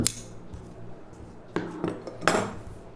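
Scissors cut through blouse fabric to trim off a side border piece, making a few crisp close snips and rustles separated by short pauses, with no talking.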